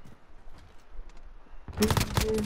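Gunfire in a first-person shooter video game: after a quiet stretch, a loud cluster of rapid, sharp shots erupts and continues through the final second.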